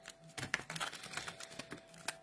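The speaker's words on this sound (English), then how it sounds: "let's give this a quick shuffle real quick" Close, quiet, rapid papery flicking and clicking as a stack of Yu-Gi-Oh trading cards is shuffled for a couple of seconds.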